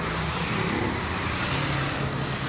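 Heavy rush-hour road traffic of cars in Guadalupe, heard as a dense, continuous roar of engines and tyres, close and loud, with no breaks and no voices.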